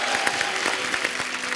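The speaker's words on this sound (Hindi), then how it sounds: "आप सबकी जोरदार तालियों के बीच बुलाना" A studio audience applauds a guest being welcomed on a Hindi comedy talk show, a steady dense wash of clapping throughout with no talk.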